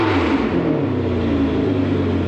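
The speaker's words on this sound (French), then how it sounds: "Maintenant il va entendre les 2-3 coups de gaz." A Ferrari 599 GTB V12 fitted with an X-pipe exhaust revs a few times, loud and close, its blips rising and falling in pitch over a deep rumble with no talk over it.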